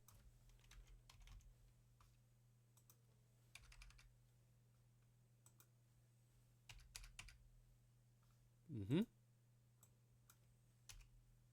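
Quiet keyboard typing comes in short bursts of clicks over a steady low hum, with pauses between bursts and a brief louder squeak near the end.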